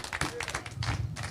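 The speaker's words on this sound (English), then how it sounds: "You can clap for that." A live audience at a pro wrestling event applauds, scattered hand claps forming a loose, moderately loud patter with crowd murmur underneath.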